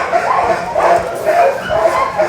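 Beagle puppies yip and whimper in short, high, repeated bursts close by, with a person talking over them.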